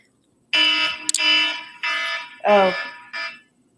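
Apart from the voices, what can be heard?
alarm going off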